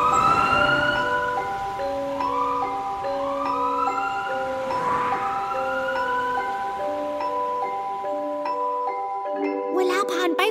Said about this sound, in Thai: อ้ลิงน้อยนั่นรถพยาบาลที่เจ้าเรียกมาหรอไวจริง